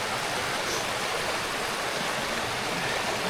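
Water rushes steadily in a stream near a waterfall in a wooded glen in Cornwall, a broad, even wash of flowing noise with no pauses.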